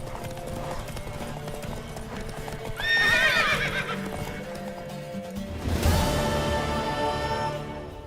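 A horse gallops with rapid hoofbeats and gives two loud neighs in The Witcher 3, close and clear over continuous rhythmic clip-clop.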